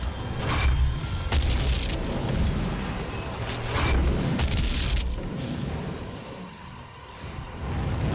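A syphon grenade explodes in DOOM (2016), producing deep booming blasts and rumbling, crackling mechanical bursts that swell and fade over several seconds, loud and close, with no talk.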